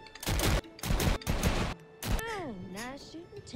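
Gunfire in the Until Dawn remake video game, a few sharp bursts of shots in quick succession, followed by voices talking.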